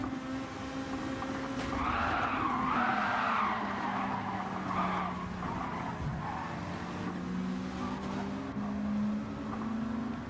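A Gran Turismo 7 race car skids off the track after colliding with another car, its engine droning steadily under a sustained, wavering tire-scrub and squeal, loud and continuous throughout.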